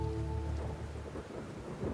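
Heavy rain lashes down in a thunderstorm outside a cafe, a steady loud wash of downpour with a deep rolling rumble of thunder underneath throughout.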